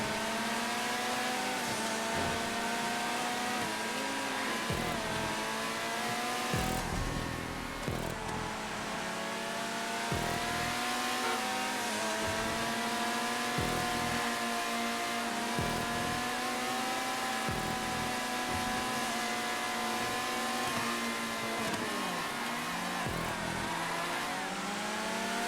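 Race car engines in GTA 5 rev and whine in sustained, shifting pitches during a long event race, cars overtaking back markers with repeated gear changes and continuous loud engine drone.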